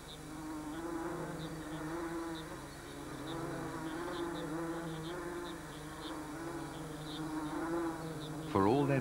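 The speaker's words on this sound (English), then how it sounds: "It's already occupied by wasps, but that doesn't stop the ants" Swarm of wasps buzzing inside their nest in a hollow of a mahogany tree as a troop of army ants invades, a steady, dense insect drone throughout with a louder burst near the end.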